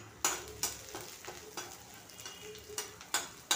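Onion frying in oil with garlic and green chilli for tomato thecha, a soft sizzle under irregular stirring scrapes and light clicks of a spoon in the pan, close and quiet.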